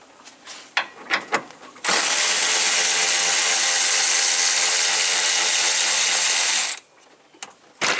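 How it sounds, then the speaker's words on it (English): A 12 mm ratchet loosens radiator bolts on a 2015 RAM 1500 with the 5.7L engine, a few quick clicks followed by a long, loud, steady run of ratcheting that stops abruptly, then more light taps. "Now I can get on this one, I think, with my ratchet."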